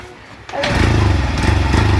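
A Honda CB125 motorcycle engine left unused for months catches after a brief crank and jumps into a loud, close, pulsing idle that runs steadily to the end.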